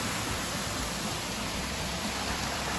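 Continuous broadband rush of a waterfall on a river near a cabin in Monteiro Lobato, steady and close, with no breaks or other sounds.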